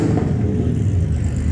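Lizard green Porsche GT3 RS with the Weissach package, its engine rumbling steadily and loudly at close range outdoors at a cars-and-coffee meet, a deep continuous drone without sharp rev spikes.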